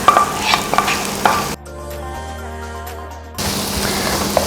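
Scrambled egg fries and gets stirred in a pan with softened onion while making kothu chapathi. Loud close sizzling and scraping runs throughout, and a brief quieter musical break falls in the middle.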